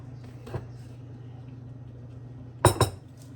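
A metal spoon scrapes and clinks against a bowl as pinto beans and sausage are served, with one soft tap followed later by two sharp clinks over a low steady hum.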